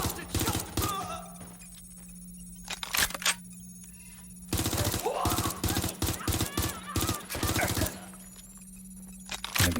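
Gunfire from the Watch Dogs Legion video game rings out in loud bursts of rapid shots, with short pauses between them and game sound effects underneath.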